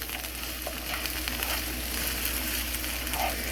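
Garlic-seasoned food sautés in a pan with a steady, close sizzle and faint stirring scrapes, with no voices over it.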